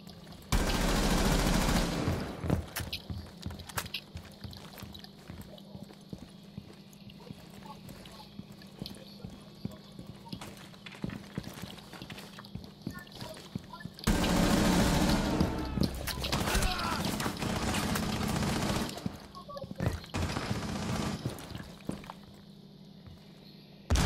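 Gunfire in the tactical shooter Rainbow Six Siege during a last-operator-standing round, with loud bursts of shots near the start and again in the middle, broken by quieter stretches of footsteps and game noise.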